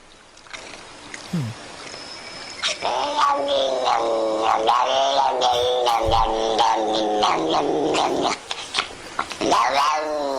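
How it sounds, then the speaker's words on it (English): A cat makes strange drawn-out yowls and growling moans that rise and fall in pitch, loud and close, with brief pauses between calls. "cat making weird noises"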